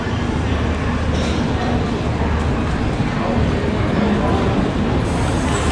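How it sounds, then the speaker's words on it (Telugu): Inside the Mysore–Kachiguda Express as it pulls out, a steady loud rumble of the running train fills the carriage, with voices faintly mixed in. "ఫైనల్లీ 6:20కి ఎగ్జాక్ట్గా అయితే ట్రైన్ బయలుదేరింది అనమాట"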